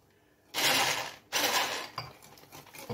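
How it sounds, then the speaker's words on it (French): An electric hand mixer beating batter for a chestnut log cake, running in two loud close bursts separated by a short pause, then trailing off into softer, uneven whirring. "au batteur électrique, on va mélanger jusqu'à ce que ça double de volume"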